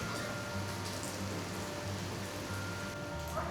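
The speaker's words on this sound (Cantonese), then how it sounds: "唉，都係落雨啦" Quiet, steady patter of rain falling at a pier during squid fishing, a soft continuous hiss with a faint low hum running beneath it and no talking.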